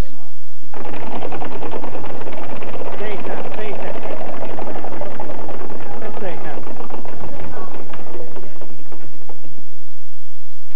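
A prize wheel spins on a French word-puzzle game show, giving a loud, dense rattle of rapid clicks that runs for several seconds before thinning out and stopping.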